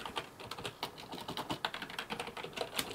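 Rapid, irregular typing clatters on a CM Storm Octane membrane gaming keyboard, with close, soft keystrokes in quick bursts and no voice over it.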